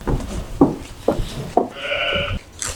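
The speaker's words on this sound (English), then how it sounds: "These sheep over here are gonna give birth later this month." Sheep bleat repeatedly inside a barn holding pregnant ewes, several distinct close calls coming one after another, including one long sustained bleat, with no talk over them.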